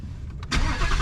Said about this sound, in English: Let's go ahead and start it up.